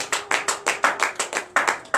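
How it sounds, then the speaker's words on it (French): Steady, rhythmic hand claps at a morning prayer service, about five per second, sharp and close, with nothing else audible. "Donnez l'acclamation à Jésus"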